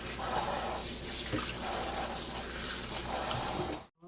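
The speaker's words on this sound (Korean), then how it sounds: "이 배추를 하나하나 깨끗이 씻어주세요" Napa cabbage leaves are washed one by one under running water, a steady close gush and splash from a tap into a sink that cuts off abruptly at the end.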